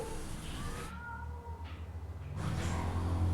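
A man imitates a cat's meow with his voice, a short wavering vocal cry over a steady low background hum, fairly faint and close.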